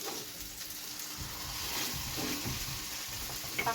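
Salmon frying in a pan gives a steady, close sizzle with crackling bursts that swell slightly toward the end, with no voices.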